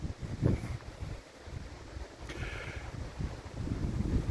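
Wind blows outdoors on a breezy day, buffeting the microphone with low, uneven gusts that rise and fall throughout.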